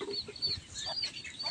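Pet chickens cluck faintly in a yard, giving scattered short clucks and soft calls against low background noise.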